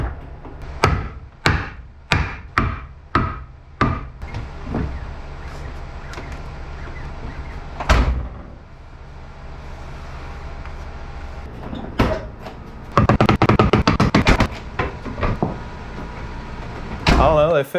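A VW Golf Mark II GTI door is adjusted after crash repairs: a run of sharp metallic knocks and clicks, then a heavy slam, followed later by denser rattling thuds and a final close, all nearby and loud.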